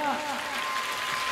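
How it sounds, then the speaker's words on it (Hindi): Audience applause at a children's education camp session, a dense steady patter of clapping filling the whole stretch, with a voice briefly audible over it at the start. "एक बार जोरदार ताली बजाओ"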